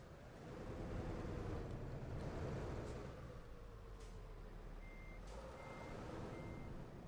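A truck's reversing alarm beeps in a truck simulator game: a high, evenly spaced series of three beeps, fairly faint, sitting over a steady low engine rumble and wind-like road noise.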